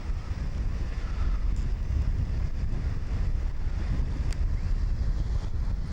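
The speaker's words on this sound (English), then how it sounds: "A little bit breezy." Breezy wind blowing by Port Phillip Bay, Melbourne, in 1999: a constant low rumbling buffet on the microphone with a faint wash of open water behind it, no voices.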